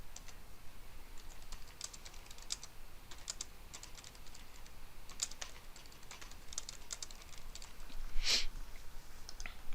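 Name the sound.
typing a note on a computer keyboard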